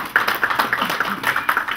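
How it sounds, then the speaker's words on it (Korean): A conference audience at a Korean forum on UHD TV and 700MHz spectrum gives short, scattered clapping to welcome a presenter. The clapping is a quick patter of hand claps lasting under two seconds. "박수 환영합니다."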